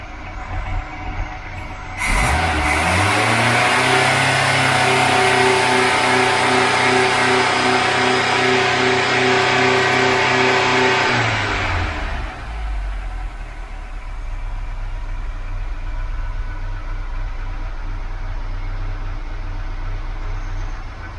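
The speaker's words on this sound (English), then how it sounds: "But watch them blip as I rev the engine." A Ford Cortina Mk5 1.6 GL engine is revved up from idle, holding a loud steady high rev for several seconds before dropping back to a rough idle.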